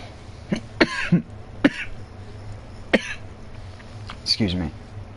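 A person coughs several times in short sharp bursts, with a throat-clearing rasp among them, close and fairly loud over a low steady background hum.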